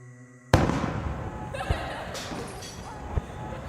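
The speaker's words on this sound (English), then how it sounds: "Suddenly there was a loud crack, a gunshot blast" A sudden loud blast like a gunshot cracks out, then echoing bangs and rattling crackles trail off, with fainter pops following close by outdoors.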